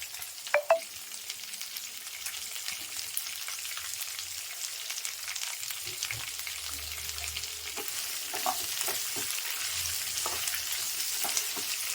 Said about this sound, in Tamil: நல்லா வெங்காயத்தை வதக்கிடுங்க.